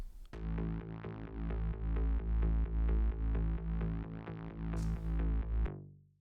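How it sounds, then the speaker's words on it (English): A heavy, distorted side-chained synth bass tone pulses rhythmically, its volume ducking and swelling in a steady pumping pattern before cutting off. "Obviously it's side chained, so it sounds like this."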